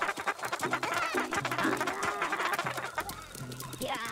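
Chickens in the video game WorldBox cluck repeatedly in quick bursts, close and clear, over looping game background sounds.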